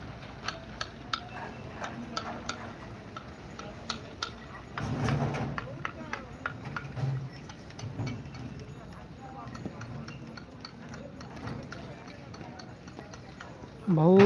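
Bullock hooves clop in a steady rhythm on hard ground at a cattle market in Pusad, with people talking nearby over a stretch in the middle.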